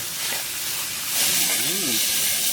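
Pork cartilage stir-frying with curry paste in a hot pan for a palm-shoot curry, giving a steady, loud sizzling hiss that runs throughout, with a brief voice partway through.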